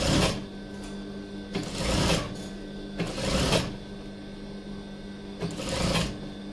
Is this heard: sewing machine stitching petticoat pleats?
yes